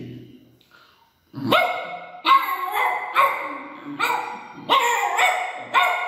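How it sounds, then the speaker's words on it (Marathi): A dog barks close by about six times in a steady series of sharp, loud barks after a quiet start. There is no talking. "कुत्रा"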